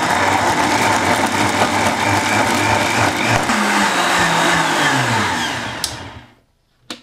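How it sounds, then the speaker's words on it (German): A high-power blender whirs loudly as it purees a vegan dressing with fresh basil, a steady close motor roar whose pitch drops toward the end before it cuts off, followed by a couple of small clicks. "das waren jetzt nur ungefähr 30 Sekunden gemixt in einem Hochleistungsmixer"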